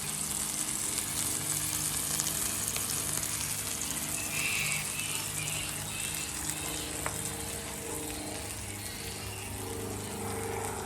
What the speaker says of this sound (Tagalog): Tapos nagprito ako ng itlog.